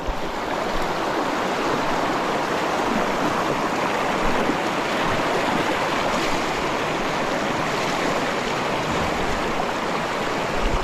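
Water rushes steadily over a rocky riverbed, a dense, continuous flowing roar holding even from start to finish, with no talking.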